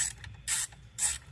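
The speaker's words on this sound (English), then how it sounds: "Fasten all 4 screws." Screws being fastened while installing interior trim on a Jeep Grand Cherokee with a UConnect 8.4" system: two short bursts of ratcheting, clicking driver noise about half a second apart, close and moderately loud, with no talk.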